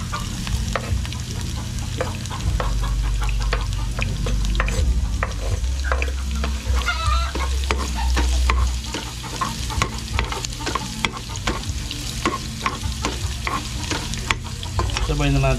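Garlic and ginger fry in hot oil for squid adobo, a steady close sizzle broken by repeated scraping stirs, with a low rumble underneath throughout and no talk.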